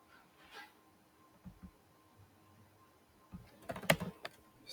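Keys on a computer keyboard are tapped faintly in a quiet room as a command is typed, with a few sparse clicks followed by a quicker cluster of louder keystrokes near the end.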